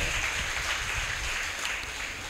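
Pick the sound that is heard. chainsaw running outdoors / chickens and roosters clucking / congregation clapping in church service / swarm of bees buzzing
congregation clapping in church service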